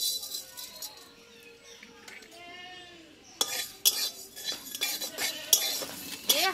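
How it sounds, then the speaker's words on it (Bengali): One spoonful of panch phoron dry-roasts in a hot wok. After a quieter opening with a faint voice, there is a close rattle of seeds and sharp metal clinks from stirring. "আর এই 1 চামচ আমি 5 ফোড়ন আগে ভেজে নেবো একটু"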